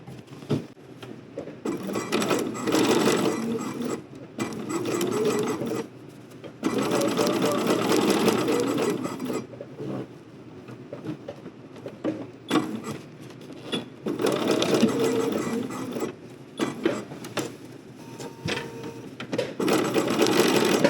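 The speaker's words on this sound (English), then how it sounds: "I'm going to just stitch straight across" A home sewing machine stitches straight across the hem of a summery caftan, its motor whirring in several close bursts of a few seconds each, separated by short pauses.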